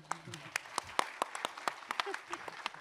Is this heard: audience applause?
yes